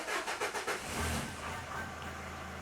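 A 2013 Nissan NV200 van with a rail-pressure fault cranks over a long time without catching, the starter churning in a steady rapid pulsing rhythm, then a sustained rough hiss and drone, close and loud.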